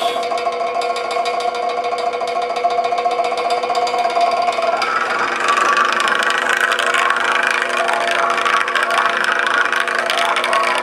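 A Lab-Line Maxi Stir Model 1295 laboratory stirrer motor hums steadily with a tonal whine, its pitch and intensity shifting as the speed is raised midway, loud and close.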